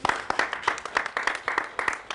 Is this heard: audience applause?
yes